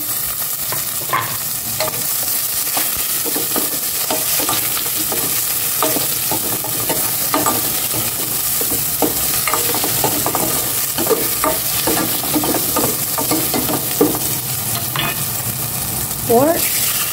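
Tomato and vegetables with pork frying in a pan, a steady sizzle under repeated clattering stirs and scrapes of a utensil, fairly close and continuous throughout.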